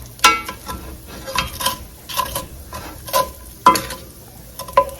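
Shrimp frying in a pan at a home brunch, with sharp scraping and stirring clatter in uneven bursts over a soft, steady sizzle, close and fairly loud, no talking.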